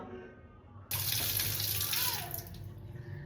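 A tap is turned on and water gushes steadily into a sink, loud and close, running continuously after a quiet start.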